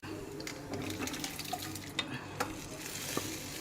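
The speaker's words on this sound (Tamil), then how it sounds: "பச்சை மிளகாய் போட்டு இது நல்லா வதக்கிக்கோங்க" Green chillies and onion sautéing in a pan, a soft continuous sizzle under scattered light scrapes and taps of a stirring spoon, fairly faint and close.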